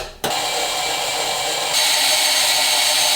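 A worn-out power drill whirs at high speed during body work on a Bronco, starting abruptly after a brief pause, then running continuously, loud and close, with a slight rise in pitch and intensity partway through.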